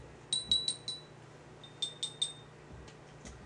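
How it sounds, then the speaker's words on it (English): Drinks are stirred in glasses, giving two quick clusters of bright, delicate glass clinks, close and quiet, separated by a short pause, with no speech. "Give these a little stir."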